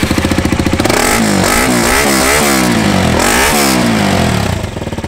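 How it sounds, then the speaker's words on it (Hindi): A 2018 KTM Duke 200 with an aftermarket exhaust revs hard and loud up close, the engine note climbing and falling through several quick throttle blips before settling back to idle. "हम आपको साउंड सुनाते हैं एग्जॉस्ट वगैरह।"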